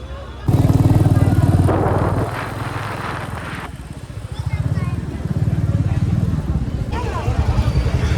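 A motorcycle rides along a road shared with large trolleys and trucks, a loud, steady engine drone close by with throttle changes and passing traffic mixed into the rumble.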